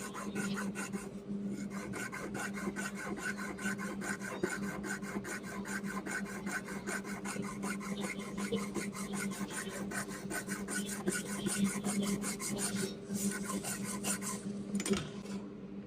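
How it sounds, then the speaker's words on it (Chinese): A file rasps steadily against the edges of a gold loach-back bracelet in rapid, even back-and-forth strokes, close and continuous for the whole stretch, with a brief pause near the end and no speech. "这个泥鳅背我们做好了，我们现在稍微边角给它打磨一下啊。"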